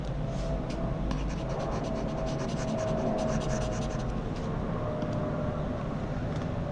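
An eraser wiping across a board during a maths lesson, a steady rubbing scratch with brief stroke bursts over a continuous low room hum, no voices.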